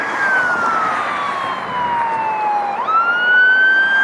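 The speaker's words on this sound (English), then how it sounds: "This is always the sirens you hear here." Two fire truck sirens wail, rising and falling steadily over loud traffic and engine rumble near Los Angeles International Airport, fairly close, with no talking.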